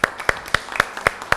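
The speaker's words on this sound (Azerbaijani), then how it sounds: "Özünüzü bir alqışlayın" Contestants at a singing competition clap in a sparse, rhythmic pattern, roughly four sharp claps per second, close and fairly loud.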